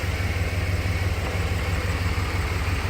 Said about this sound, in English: The vehicle does run.